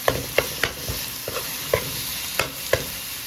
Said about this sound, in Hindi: तब इसमें हमने कीमा डाल दिया है, इसको मिक्स करेंगे